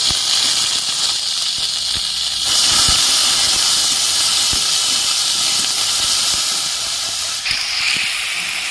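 Onion paste hits hot oil tempered with dried red chillies, cumin and whole garam masala, giving a loud, continuous close-up sizzle and hiss that swells briefly and stays steady throughout, with no talking.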